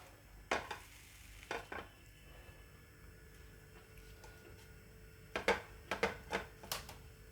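Spiced paneer burger patties set down in a frying pan: a few sharp clacks and taps of patties and utensils against the pan, scattered at first and then a quick cluster near the end, over a faint sizzle.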